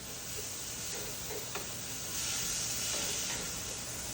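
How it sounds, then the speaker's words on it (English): Four garlic cloves stirred in a hot pan, with a steady close sizzle and hiss, a few faint scrapes and ticks from the utensil, and no talk. "I have about 4 garlic cloves there. I'm gonna stir that up, get that flavor."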